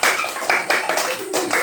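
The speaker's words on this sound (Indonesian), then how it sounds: "Terima kasih tepuk tangan buat Kakak Hesti." A class of children claps together in a classroom, a lively burst of overlapping hand claps with uneven rhythm lasting under two seconds, fairly loud and close.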